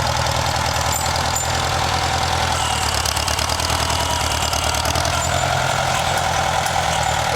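An International 240 tractor engine chugs steadily and loudly up close while grading with a rear blade, a continuous rhythmic diesel knock with no voices.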